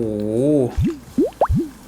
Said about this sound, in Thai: บีบไปเลยนะ จนกว่าจะไม่มีน้ำหยดออกมาจากตัวฟองน้ำนะคะ